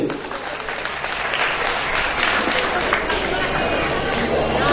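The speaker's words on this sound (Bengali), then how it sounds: "জোর একটা হাততালি" An audience at a village sports prize-giving in Kapasia, Gazipur, claps together in a dense, continuous burst of applause, mixed with crowd chatter and murmuring voices throughout.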